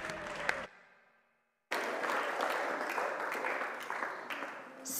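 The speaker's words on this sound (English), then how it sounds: "Let's give him a clap." Congregation clapping at a worship service after a song, a short burst, a sudden drop to near silence, then a fuller wash of applause that carries on to the end.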